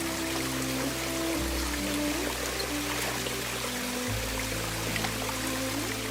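Water flowing steadily as a person lowers into a cold stream, a continuous close pouring and trickling wash with a low rumbling undertone throughout and no talk.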